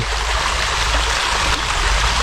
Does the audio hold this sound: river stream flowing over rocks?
yes